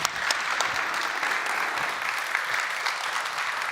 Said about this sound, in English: Let's give our 2 guests a round of applause.